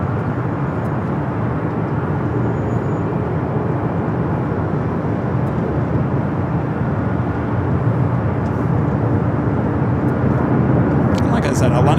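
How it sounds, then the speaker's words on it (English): A LATAM Boeing 787-8 Dreamliner jet airliner at LAX, bound for Santiago, Chile, gives a sustained, loud, broad roar that holds steady throughout, with a voice talking over it. "Latam and Dreamliner 787-8 Dreamliner heading to Santiago,"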